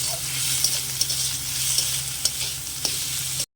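Tomatoes with chilli powder and spices sizzle steadily in a pan for a homemade papaya curry, with a continuous close frying hiss and a few light stirring clicks.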